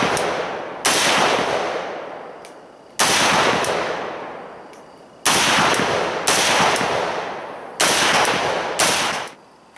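Arsenal SGL 21 AK rifle fitted with an AK-74 style muzzle brake fires about five loud, sharp gunshots at uneven intervals outdoors, each crack followed by a long, decaying echo.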